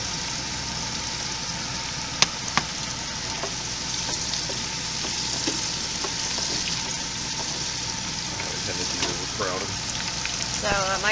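Eggplant and squash slices fry in an electric skillet with a fan running, giving a steady close sizzle and crackle throughout, with a couple of sharp clicks and faint bubbling bursts near the end.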